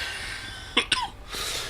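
A person coughs twice in quick succession, fairly close and moderately loud, over a steady background hiss.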